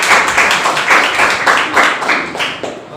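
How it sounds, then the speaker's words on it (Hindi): A church congregation claps loudly and rhythmically together during a Sunday evening service, a dense steady beat of hand claps filling the room with almost no talk over it. "हम परमेश्वर के लिए जोर से ताली बजाए"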